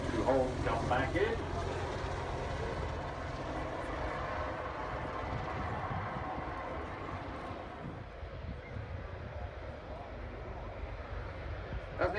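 An Apache helicopter lifting off at the Farnborough airshow, a loud, steady rotor and engine roar filling the air, with people talking over it.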